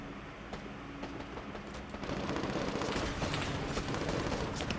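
Rapid bursts of machine gun fire in a military combat video game, a dense rattling stream of shots at moderate distance that grows louder and busier partway through, with no voices.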